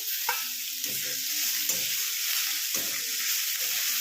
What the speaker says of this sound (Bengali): এবার এতে এই শুকনো লঙ্কাগুলো আর বেগুনগুলো মিলিয়ে দেবো